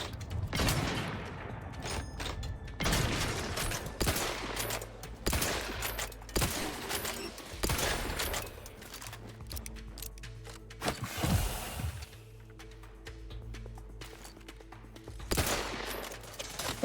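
Video game gunfire rattles in heavy sustained bursts of rapid shots and booming blasts, loud and close, with mechanical clanks between volleys and no talk.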